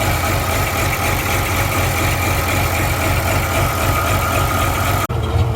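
An Oliver 1755 tractor engine running steadily at idle, a loud, even low rumble with a faint knocking pulse throughout, close by, cutting off abruptly just before the end.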